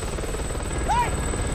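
A helicopter from the film 28 Weeks Later comes in to land, its steady rotor drone rumbling under a brief rising and falling whine, with muffled voices faintly mixed in.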